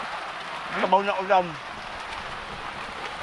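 Rain falls steadily during an outdoor catch-and-cook outing, a constant soft hiss with a voice briefly speaking over it.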